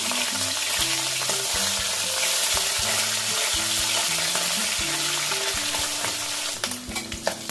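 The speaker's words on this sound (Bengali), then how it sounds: "মাছগুলো উল্টে দিচ্ছি।" Tangra fish are turned over in hot frying oil, with a steady close sizzle throughout and a few spatula clicks and sharper pops toward the end.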